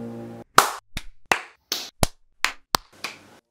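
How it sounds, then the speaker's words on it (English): About eight individual hand claps sound close by in a loose, irregular sequence, each one a crisp smack followed by a brief hush, after a faint tonal hum at the start. "Clap."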